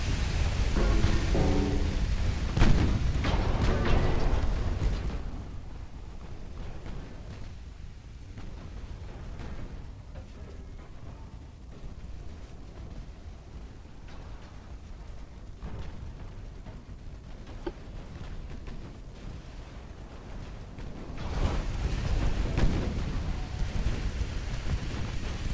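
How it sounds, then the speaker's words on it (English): Ammunition detonation on a light cruiser in Ultimate Admiral: Dreadnoughts: a loud rumbling explosion opens, fades into a long low roar, then a second heavy blast swells near the end. "Ammo detonation on this light cruiser."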